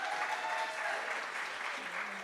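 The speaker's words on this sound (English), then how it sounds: "Big applause." Audience applause at an awards event, a steady wash of many hands clapping, moderately distant and fairly quiet, with a faint voice near the end.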